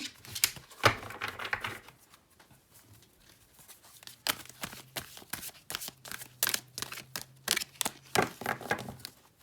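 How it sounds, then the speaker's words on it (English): Quick bursts of cards being shuffled and riffled, with sharp snaps and a soft low hum underneath; a few clustered flurries rather than one long shuffle. "Let's shuffle again."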